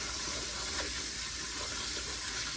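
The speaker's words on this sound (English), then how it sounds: "I'm just going to give these a quick little rinse, just to get any dirt or anything off." Muscadine grapes are rinsed under running tap water, a steady loud rushing splash that continues unbroken and close throughout.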